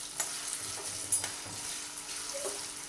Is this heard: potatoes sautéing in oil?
yes